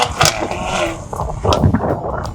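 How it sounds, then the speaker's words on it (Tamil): A Mercedes-Benz GLE 43 AMG sounds loud and close, its engine and exhaust giving a few sharp revving bursts with a raspy, aggressive tone. "சவுண்டு பயங்கரமாக இருக்குது. ஏதோ ஆஃப்டர் மார்க்கெட் எக்ஸாஸ்ட் போட்ட மாதிரி இருக்குது."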